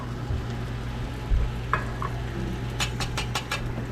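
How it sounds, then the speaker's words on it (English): Tomato sauce being stirred into catfish gravy frying in a pot, with a steady sizzle under a few scraping stirs and a run of quick utensil clicks near the end. "Then I'll start adding my tomato sauce."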